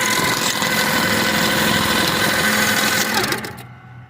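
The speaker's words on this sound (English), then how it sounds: "We're going to go ahead and feed our bag in so you can see the unit sewing." Rebuilt Fischbein sewing pedestal stitching a bag closed, a loud, continuous mechanical drone with rattling vibration that runs steadily for about three seconds before winding down and cutting off.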